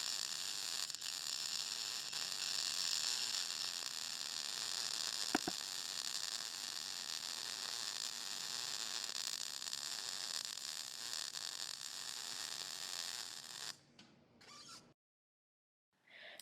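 MIG welding gun laying a bead on a steel T-joint, a steady close crackling sizzle that holds for about fourteen seconds before cutting off into silence.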